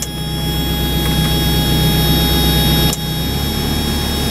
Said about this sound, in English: compressor kicked in, I think